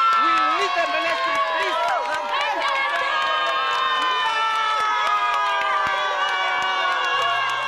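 Desperate residents of Havana in Moses Garoeb constituency crowd outside a councillor's office, shouting and calling out for food in a steady, dense clamour of many overlapping voices that continues throughout, loud and close.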